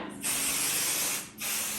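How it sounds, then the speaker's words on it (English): Basting adhesive sprayed from an aerosol can onto quilt batting, two long steady hissing bursts with a short break between them, close and even, and no voices. "So I'm just gonna go ahead and spray the rest of this section."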